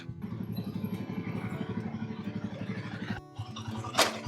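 A motorcycle engine runs steadily up close at the start of a ride toward Old Delhi, with a rhythmic mid-low throb that dips briefly near the end before resuming, followed by a short sharp noise burst.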